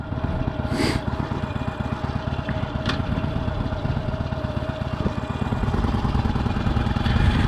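Harley-Davidson motorcycle engine rumbling steadily and continuously up close, a dense low throbbing drone with road noise, holding a fairly even level throughout.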